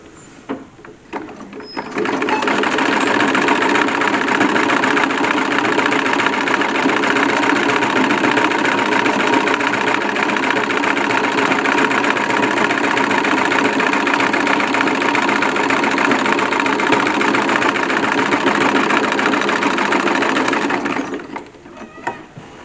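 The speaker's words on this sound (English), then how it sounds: "now we're going to sew on the very edge of each side" A sewing machine runs steadily for about twenty seconds, stitching along the very edge of a corset, a continuous close whirring hum that starts and stops cleanly, with no voices.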